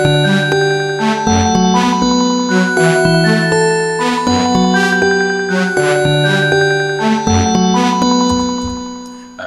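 A simple three-oscillator synthesizer patch built in Alchemy with heavy node-property modulation plays layered bell-like tones in shifting chords, bright ringing partials over steady sustained notes, loud and continuous with no voices.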